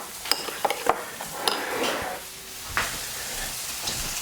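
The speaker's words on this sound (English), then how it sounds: "grab a spoon, just give that a mix" A spoon clinks and scrapes inside a bowl, mixing salad dressing for a Thai dish, with a few sharp taps and a softer swirling scrape, close and alone.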